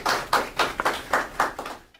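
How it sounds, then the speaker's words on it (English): At a Howard University student discussion event, a small group gives a short burst of distinct, fairly close hand claps that falls into a loose rhythm of about seven claps before stopping. "Could you guys give a hand of applause just for Danny and all of us Democrats?"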